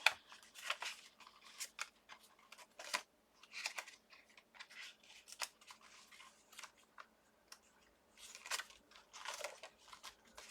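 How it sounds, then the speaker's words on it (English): Scissors snip through a paper label in a quiet room, cutting in short, irregular bursts of crisp snips separated by brief pauses, close to the listener. "Something for a label right here that I can cut out."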